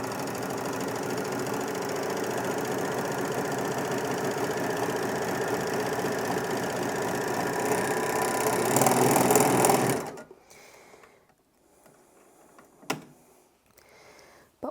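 Bernina L450 overlocker running fabric through at speed, a loud steady mechanical whir with rapid stitching rhythm that stops abruptly partway, followed by near quiet and a single small click.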